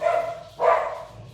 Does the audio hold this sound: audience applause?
no